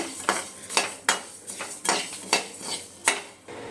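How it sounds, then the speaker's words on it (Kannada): Coriander seeds dry-roasting in a pan, stirred with a utensil in a steady series of sharp scraping and clinking strokes, close and clear, with no voices. "ಇದನ್ನು ಸಹ ನಾನು ಗರ್ಗರಿ ಆಗೋ ರೀತಿ ಹುರ್ಕೋತೀನಿ"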